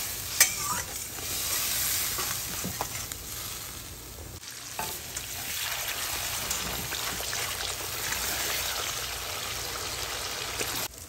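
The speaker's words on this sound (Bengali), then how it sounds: "এবার মশলাটিকে আমি কষিয়ে নেব।" Spice paste with turmeric sautéed in a pan for Bengali fish curry, a bright, crackling sizzle with repeated spatula scrapes and stirs, a sharp knock early on, continuing close and steady.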